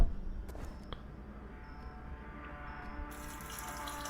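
A video game character urinating into a toilet, a faint steady trickle of liquid that runs continuously with a brighter hiss rising near the end.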